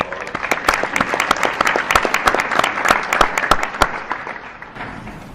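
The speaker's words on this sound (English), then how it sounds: "Please give them a round of applause." Audience at an annual meeting applauding, a steady mass of overlapping claps with a few sharper nearby hand strikes, sustained for several seconds and tapering slightly at the end, no talking over it.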